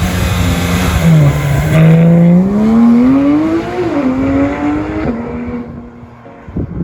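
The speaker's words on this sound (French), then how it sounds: "les deux sorties d'échappement sont très belles et offrent une sonorité exceptionnelle" A Porsche 991 GT3 RS engine revs loudly through its twin exhaust outlets, the note climbing and dropping in pitch, then settling into a steady growl before fading.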